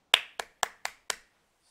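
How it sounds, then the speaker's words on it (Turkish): Hands clapping in applause: five crisp, evenly spaced claps ring out close and clear, each sharp and quick, then stop, with no voices. "Milletçe alkışlıyoruz."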